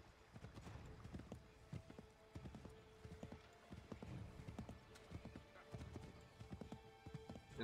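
Video game horse hooves clip-clopping steadily at a brisk pace in Assassin's Creed 3, continuous and moderately close, with a faint whinny in the mix.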